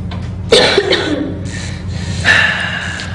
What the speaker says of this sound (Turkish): Bak nasıl öksürüyor.